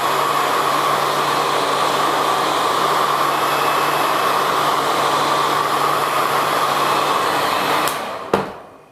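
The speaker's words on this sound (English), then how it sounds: "I'm just going to run my blow dryer over this for a few seconds." A blow dryer warms the edge of wax for a handmade candle, a steady loud whooshing hum running continuously for about eight seconds before it switches off with a click.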